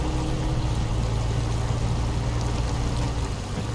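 A truck in the SnowRunner video game ploughs through water: a steady, loud engine drone with continuous splashing and sloshing, unbroken throughout and easing slightly near the end.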